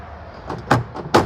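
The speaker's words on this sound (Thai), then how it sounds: "ประตูข้างคนขับ ด้านหน้า ปิดนิ่มนะครับ" Front driver's door of a four-door Mitsubishi Strada 2.8 pickup shutting softly, heard as two muted, close thumps about half a second apart with no talk.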